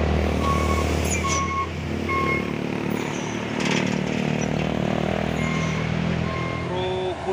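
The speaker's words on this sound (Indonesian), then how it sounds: "Truk bus oren 6x4 HD membawa buah kelapa sawit." An orange 6x4 heavy-duty truck hauling oil palm fruit runs with a loud, continuous diesel engine drone, alongside other road traffic noise and brief higher whines.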